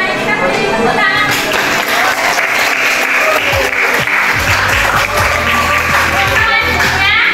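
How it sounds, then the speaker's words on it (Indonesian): A classroom of children in Indonesia applauds together, dense clapping that stays loud and steady for several seconds, with faint children's voices underneath. "Mari kita beri tepuk tangan."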